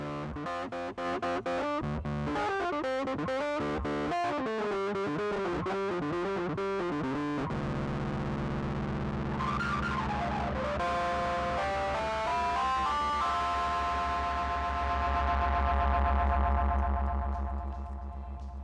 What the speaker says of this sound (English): we added a drive filter, and I'm just going to turn that all the way up